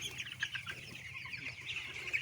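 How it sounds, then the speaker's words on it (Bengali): Chickens cluck softly and continuously on a poultry farm with an electric brooder, a chorus of overlapping short calls with steady low background hum, fairly faint and close. "জাহেদ ভাইয়ের কাছ থেকে জানতে পারলাম শীতকালে মুরগিগুলোর তাপমাত্রা ঠিক রাখার জন্য এই সাইজের ব্রোডার উনি ব্যবস্থা করেছেন।"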